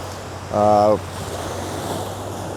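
Surf rolls steadily onto a beach on Koh Tao island, a constant washing roar with wind buffeting the microphone, and one short tonal sound rising briefly above the waves near the start.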